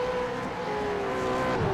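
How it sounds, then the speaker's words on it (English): V8 Supercar engines in the iRacing sim at the Adelaide street circuit, a steady high-pitched engine drone with a gradually shifting tone, sustained and moderately loud throughout with no talk. "It really is nice to hear these V8s screaming around Adelaide."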